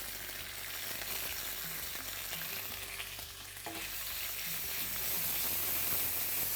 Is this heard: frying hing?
yes